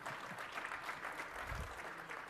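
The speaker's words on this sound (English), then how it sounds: "You can clap." Scattered, fairly quiet audience clapping in a conference hall during a tech presentation, a thin patter of hands that stays even and never builds into a full ovation.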